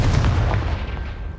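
In the Hogwarts Legacy video game, a Confringo blasting spell explodes with a loud, heavy boom up close, followed by a rumbling decay that fades over about a second.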